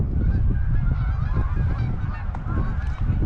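A large flock of geese honks all around during a goose hunt, a dense, continuous chorus of overlapping calls that stays loud and close throughout.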